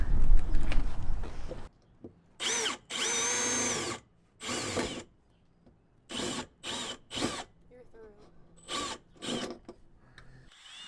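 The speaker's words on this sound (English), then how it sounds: "Hopefully this is the last hole that I need to drill inside the van." Bursts of a power drill grinding through a van's metal floor, several short runs separated by pauses, close and loud, with faint handling noise between.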